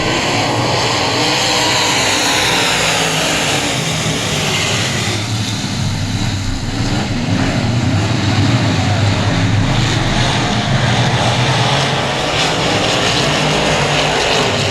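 Race cars roar at a speedway as they accelerate under the green flag, a loud, continuous engine drone with rising and falling pitch that fills the whole stretch.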